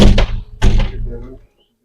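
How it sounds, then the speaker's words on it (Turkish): Apartment door being shut, two close, heavy thunks in quick succession followed by a short rattle before silence. "Ben şu kapıyı da kapatayım."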